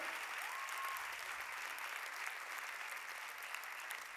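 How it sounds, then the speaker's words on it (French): Audience applauding young finalists at an international dictation contest final, steady applause filling the hall throughout, moderately distant and even in level. "vous pouvez les applaudir"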